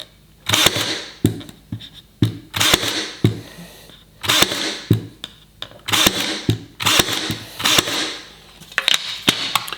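A Ryobi 18V ONE+ cordless pin nailer fires longer pin nails into small trim, giving about a dozen sharp, loud snapping shots in an irregular rhythm, each with a brief mechanical clack, close up with no talking.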